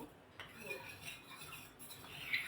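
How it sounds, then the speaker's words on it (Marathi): A spoon stirs milk with cornflour paste in a pan, producing soft, close scraping and light metal clinks against the pan, faint and continuous over a low kitchen background. "हलवा म्हणजे थोडंसं हे फिरवून टाका"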